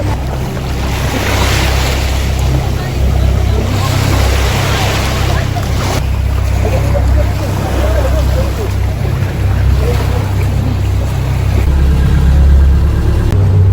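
A boat's engine rumbles steadily on the water in Casiguran, Philippines, with constant wind and wave noise, loud and close throughout.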